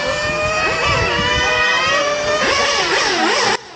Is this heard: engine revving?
yes